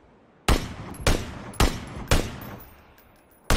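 Gunfire in a video game: four loud, sharp shots spaced about half a second apart, each trailing off in a reverberant tail, then a fifth shot starting at the very end.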